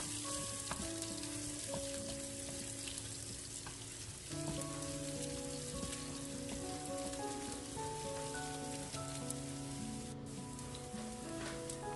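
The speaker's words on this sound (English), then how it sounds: "Then when it is golden brown, we add in the ginger." Ginger sizzles steadily in hot oil in a pan while cooking fish escabeche, a close continuous crackle and hiss with small pops throughout.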